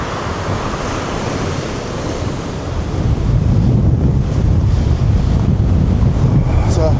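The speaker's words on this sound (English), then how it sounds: "the surf is up, as they say" Storm surf crashes onto a beach in Tenerife during a storm, with a continuous loud roar of waves and heavy wind buffeting the microphone that grows stronger partway through.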